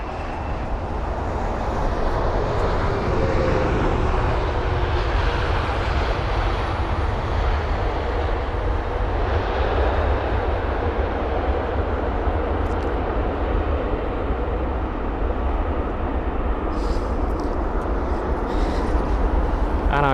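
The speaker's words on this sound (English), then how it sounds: "Just pointing the nose upwards and just letting that aircraft drop till it touched down" Aircraft landing at London Heathrow, a steady roaring jet engine wash that swells and holds at moderate distance, with some talking beneath it.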